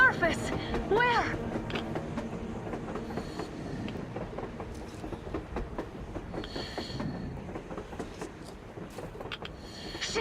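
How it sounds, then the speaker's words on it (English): A train rolls past on the surface in the Metro Exodus video game, with rumbling rail noise and rhythmic clatter running throughout, while voices talk over it. "A damn train on the surface!"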